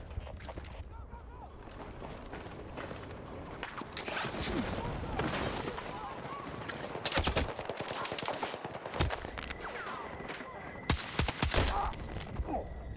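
Gunfire in Battlefield 6, including a DMR rifle, sharp shots and bursts scattered across the clip, some loud and close, over a busy bed of game sound effects.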